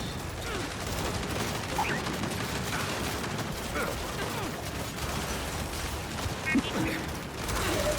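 Dense, continuous turret gunfire in the video game Gears of War 5, a steady rattling barrage of rapid shots and mechanical clatter filling the whole stretch at moderate level.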